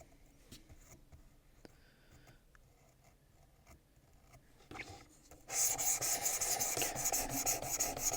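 Knife edge drawn across the 600-grit stone of a WorkSharp Precision Adjust to remove the burr: soft, slow rasping strokes, then a much louder, steady abrasive scraping for the last few seconds.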